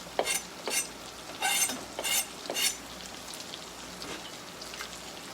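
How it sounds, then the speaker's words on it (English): Potatoes, peppers and rosemary sizzle gently in oil and butter in a pan, with a few scraping stirs up close over a steady soft frying hiss. "And stir to coat everything in your oil and butter."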